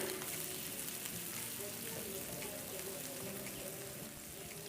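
Chopped onions hit hot oil in a pan for a village-style potol dorma with mince, giving a steady, close, crackling sizzle throughout with no talk over it.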